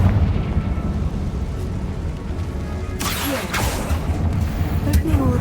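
A Confringo blasting curse from Hogwarts Legacy, cast inside a tomb, goes off as a couple of sharp bursts with a crackling tail. The bursts sit over a steady low ambient rumble, and a voice is audible around them.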